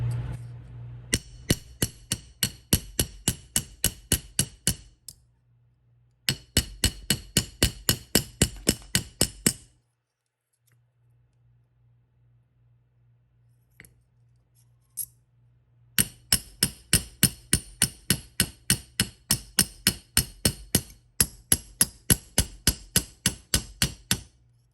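A hammer textures the bowl of a wooden spoon with rapid, bright, evenly spaced taps. They come in three long runs, separated by quiet pauses with a low hum and an occasional single tap.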